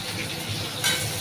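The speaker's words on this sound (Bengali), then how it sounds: "তো বন্ধুরা, ভালোভাবে আমি এটা নেড়ে চেড়ে ভেজে নেব" Onion and tomato being stirred and fried in a pan, a soft steady sizzle with a brief scrape of the utensil partway through, quiet and close.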